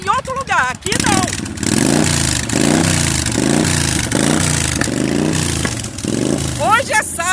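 A group of motorcycles crowds a house gate, engines revving up and down in repeated loud surges, close and continuous, with voices talking between them.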